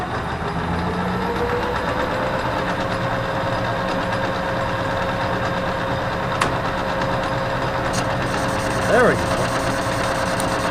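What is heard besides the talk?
Logan lathe cutting metal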